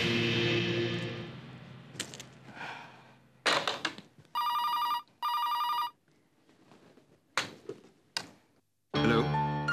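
A telephone rings in two clear bursts of a bright electronic bell, standing out between soft background sounds and scattered thumps.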